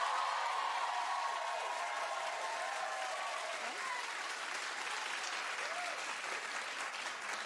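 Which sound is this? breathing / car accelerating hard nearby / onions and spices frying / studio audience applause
studio audience applause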